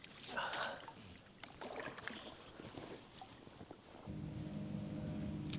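Kayak paddling through a choked, overgrown swamp, with splashy strokes and water sloshing close by, light wind noise, and a steady low rumble building toward the end.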